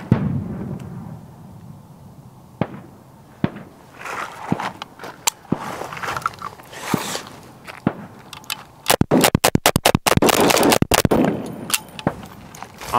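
A quiet stretch with scattered single bangs, then a rapid, loud burst of gunshots fired in quick succession, followed by a few more shots.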